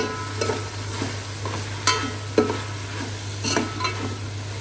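Cabbage stir-fried in a pan: steady sizzling with scraping stirring strokes at irregular moments, close and moderately loud over a constant low hum, with no talking.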